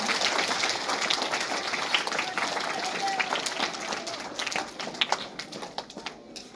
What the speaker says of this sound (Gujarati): આપણે આ તમામ વિદ્યાર્થીઓને ફરીથી એકવાર જોરદાર તાળીઓના ગડગડાટ વચ્ચે વધાવી દઈએ